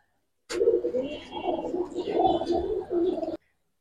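Giribaz pigeons in a loft give a close, throaty cooing for about three seconds in a few rolling phrases.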